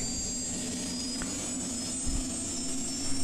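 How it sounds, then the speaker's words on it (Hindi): A helicopter's engine runs steadily nearby, a continuous loud turbine whine and droning hum holding evenly throughout with no talking. "हेलीकॉप्टर वालों ने हेलीकॉप्टर भी चालू कर दिया है।"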